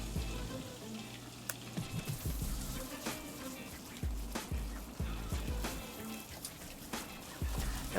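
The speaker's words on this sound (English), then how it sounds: "we're gonna add 3/4 cup of all-purpose flour and give that a mix" All-purpose flour stirred into melted butter in a pan gives a soft, steady sizzle, with irregular scraping and tapping from the spoon against the pan throughout.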